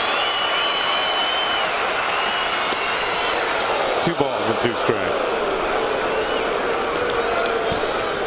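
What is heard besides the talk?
baseball crowd cheering at Yankee Stadium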